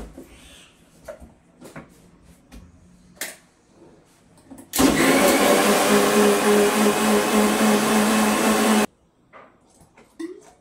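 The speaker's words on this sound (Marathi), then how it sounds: "मिक्सरला लावून घेते" A mixer grinder whirs loudly for about four seconds blending yogurt for kadhi, starting and stopping abruptly, with quiet clinks and handling sounds before and after.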